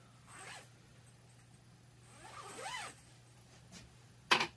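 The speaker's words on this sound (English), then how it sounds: "There's all those zipper pulls." Zipper pulls on a backpack being tugged in a workshop, producing a few separate raspy zipping strokes at moderate volume, the last a sharp, louder zip near the end, all over a steady low hum.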